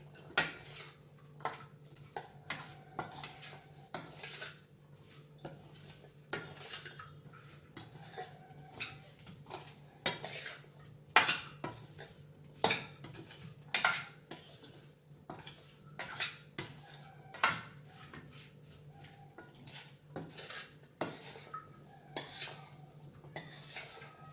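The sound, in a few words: mixing ingredients in a bowl for mustard chilli raita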